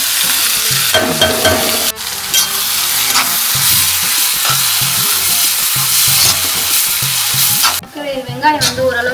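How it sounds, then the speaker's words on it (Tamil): Onions fry in hot oil, a loud close sizzle under constant rhythmic stirring and scraping of a spatula in the pan, with a brief burst of sharper clatter near the end. "எண்ணெய் காஞ்சதுக்கப்புறமா ரெண்டு வெங்காயம் போட்டேன்"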